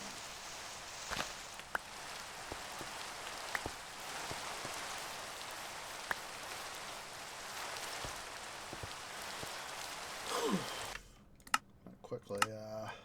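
Steady rain from the video game Minecraft patters and hisses continuously, with small sharp ticks scattered through it, then cuts off abruptly near the end.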